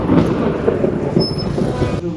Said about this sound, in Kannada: ವಾ, ಎಂತ ಗುಡುಗು.